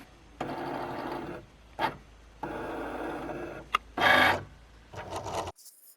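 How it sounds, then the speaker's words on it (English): A Cricut machine cutting a printed waterslide image, with short bursts of motorized whirring and buzzing separated by brief pauses and a few clicks. "allow your Cricut to cut off the image"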